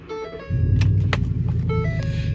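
A 2010 Ford Raptor's 6.2-liter engine cranks and catches, then settles into a loud, deep, steady growl at close range.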